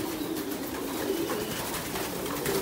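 Pigeons cooing at a pigeon farm, soft repeated low coos layered under a steady noisy background, fairly close and continuous.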